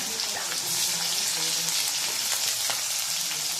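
Onions frying in a pan with chicken and garlic give off a steady, dense sizzle with faint stirring scrapes, close and continuous with no talking.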